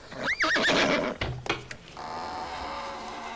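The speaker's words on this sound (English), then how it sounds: "Let's bring on the horses!" A horse gives a loud, clear whinny with a rising and falling pitch, followed by a couple of brief thuds and a softer snort, then a steady low background hiss with no talking.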